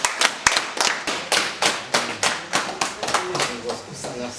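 A crowd at a comedy sketch set at a wedding meeting claps in a steady, rhythmic beat, roughly three or four claps a second, fairly close and loud, with voices faintly mixed in.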